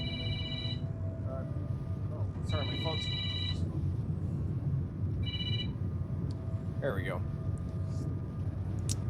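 A phone rings in a trilling telephone-bell pattern, three bursts spaced a few seconds apart, over a steady low hum and background game ambience with brief voice-like sounds in between.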